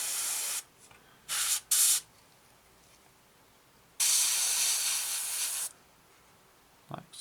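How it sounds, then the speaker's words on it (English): Spray painting a Tamiya 1/48 Spitfire Mk.1 model: short hissing bursts from an airbrush or spray can, two brief puffs and then one long spray of several seconds, with quiet gaps between them. "I did spray a bit out."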